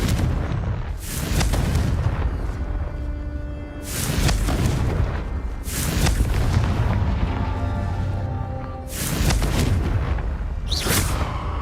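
Repeated Confringo blasting-spell explosions in the game Hogwarts Legacy, about four loud, sharp booms spaced a few seconds apart, each with a rumbling decay, heard up close with no talking.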